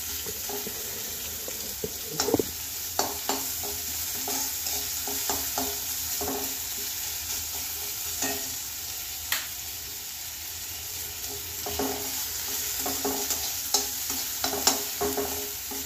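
Medium-sized onions frying in a little oil, a steady soft sizzle with a spoon scraping and stirring at irregular intervals, close and alone with no talk.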